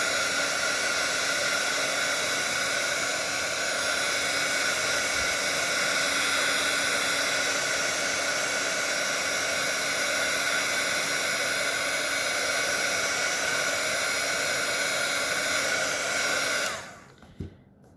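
Hair dryer blowing steadily and loudly up close while drying watercolor paint, a constant whooshing roar that cuts off abruptly near the end, leaving silence.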